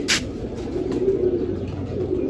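Pigeons coo softly and repeatedly, low murmuring calls rolling on continuously close by, with a quick sharp sound at the very start.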